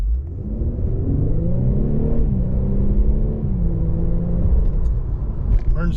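A 2023 Infiniti Q50 Luxe AWD with a twin turbo V6 pulling away, its engine droning up in pitch, dipping, then climbing again as it accelerates, heard close from inside the car with a faint voice near the end.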